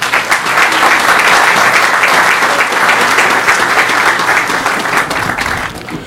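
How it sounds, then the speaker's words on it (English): Loud, sustained round of applause from a large audience at a live-streamed gubernatorial event, an even dense wash of clapping that holds for several seconds and then begins to taper. "So please give him a round of applause."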